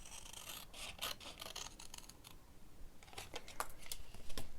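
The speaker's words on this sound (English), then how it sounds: "Open my scissors really wide." Scissors snipping through paper up close, cutting a straight line to remove a triangle, a quick run of crisp cuts, a pause, then another cluster of snips.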